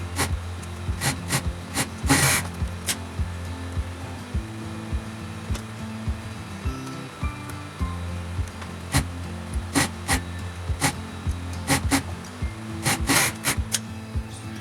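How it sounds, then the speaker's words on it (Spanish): Sewing machine running an overlock seam on a woman's sweatshirt cuff, a steady close mechanical whir with repeated sharp ticks and short louder bursts from handling the fabric. "vamos a ir a la máquina de coser y le vamos a pasar una costura overlock o bien una puntada elástica"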